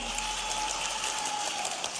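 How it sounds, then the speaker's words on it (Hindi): Applause from a crowd at an open-air farmers' rally, a dense, even patter of clapping that holds at moderate loudness with a faint steady tone beneath it and no voices over it. "जोरदार ताली बजाओ अपने नेता के लिए भी"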